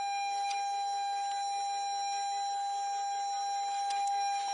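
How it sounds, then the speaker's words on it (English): A 2019 Toyota RAV4 Hybrid emits a steady, high-pitched continuous tone while a remote starter is wired in, with faint clicks and brief rustles of handling around it. "Once you plug it in, beeping should stop."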